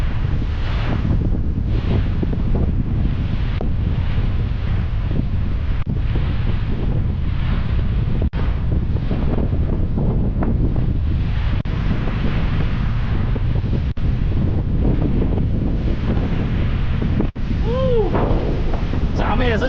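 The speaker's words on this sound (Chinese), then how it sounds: "这个风浪确实有点大，还很冷呢" Strong cold wind buffets the microphone on an island coast, a constant heavy roar with gusting rumbles over the surge of waves, continuing unbroken throughout.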